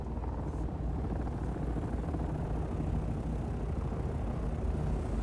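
An ornithopter aircraft in the game Dune Awakening, a steady loud rumbling engine drone with rapid beating texture, continuous and close throughout.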